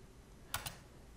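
Two quick, crisp keystrokes on a computer keyboard while entering a chmod command in a terminal, close and clear against a quiet background.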